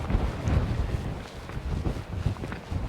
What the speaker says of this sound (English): Oh, wind. I hope this is audible.